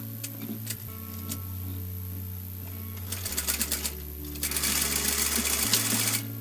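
A sewing machine stitches a frock made from an old saree, running in steady bursts with brief pauses, loud and close, with no talking.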